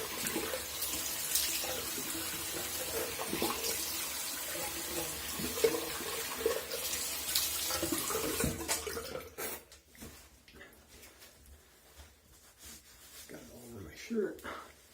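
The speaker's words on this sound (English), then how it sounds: "let me rinse my face real quick." Tap water runs into a sink as a face is rinsed after a shave, a steady splashing hiss with bursts of splashing for about nine seconds, then the flow drops away leaving sparse drips, handling noises and breathing.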